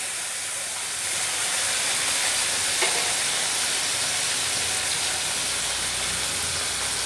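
Chopped tomatoes with salt frying in spluttering hot oil, a steady broad hiss and sizzle that swells after the first second and holds evenly, close but fairly soft with no talking.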